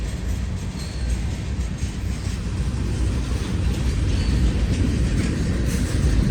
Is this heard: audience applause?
no